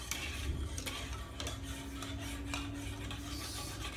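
Cinnamon sticks snapped and crushed into small pieces while preparing limber de leche, a steady close rasping and rubbing with scattered crisp cracks, continuous and unhurried.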